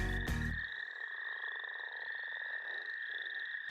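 Frogs croak in a steady, dense chorus that fills the whole stretch after a brief loud thump at the start, with a constant high trilling tone running underneath and no voices.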